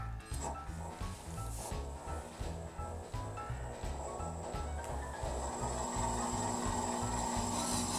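A wood lathe turns slowly as a French rolling pin is driven into a bit by the tailstock, producing a rhythmic rubbing and thumping with steady rotation plus a faint whine. No one talks.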